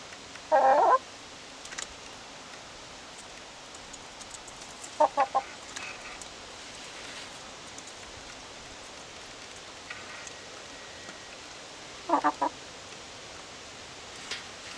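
Brown-egg-laying chickens in a chicken run give a few short, scattered bursts of clucking, separated by long quiet stretches over a faint outdoor background.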